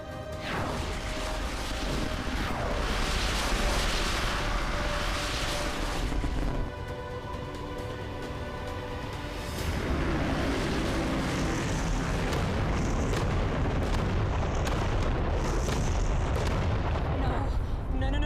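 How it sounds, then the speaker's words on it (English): Nuclear bombs detonating in a disaster film, a sustained loud roaring rumble of blasts that dips briefly and then surges back, continuing throughout. "They've detonated the nukes."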